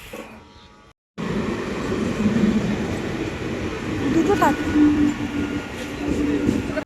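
A local train near Barrackpore runs with a continuous loud rumble and clatter of the carriages, heard from on board, with passengers talking under it.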